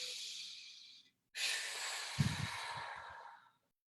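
A deep inhale during breathwork meditation, a long airy breath drawn in close to the mic after a brief silence, with a soft low thump partway through, then fading out.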